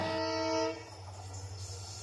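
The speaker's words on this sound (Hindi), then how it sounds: "जब टोटल फेलियर का सिंगल लाइन में चलता है तो वो 10 छोटा सीटी मार के ही चलता है।" An Indian Railways train horn sounds a series of short blasts, the total-failure single-line signal, loud and close at first, then fading into steady low rail rumble.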